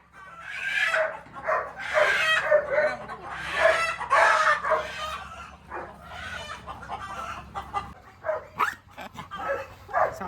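A rooster on a farm squawks and crows loudly in repeated harsh bursts while being caught, with clucking and a dog barking mixed in close by.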